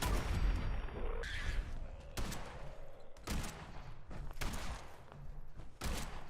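Repeated gunshots ring out in Fallout 4, sharp broadband cracks spaced unevenly across several seconds over a noisy game soundscape, fairly loud and near.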